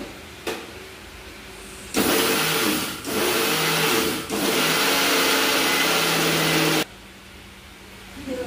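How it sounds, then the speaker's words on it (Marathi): An electric kitchen grinder grinds mustard seeds for an old-style mango pickle. It runs loud and close in about three steady roaring bursts, each a few seconds long, with short pauses between them and nobody speaking. "आपण मोहरी बारीक करून घेऊया."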